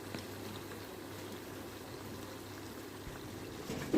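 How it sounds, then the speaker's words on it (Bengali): Cauliflower pakoras deep frying in hot oil, a steady soft bubbling hiss that runs evenly throughout, faint and close, with no talking. "আর এরকম করেই কিন্তু আমি বাকি পকোড়াগুলোও ভেজে নেব।"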